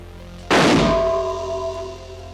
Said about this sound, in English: this time the result is a much more violent explosion involving a similar quantity of fuel gas